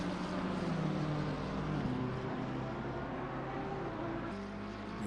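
Race car engines from a racing video game at Laguna Seca drone as a continuous rumbling roar, fairly faint and steady with slight shifts in pitch, no speech.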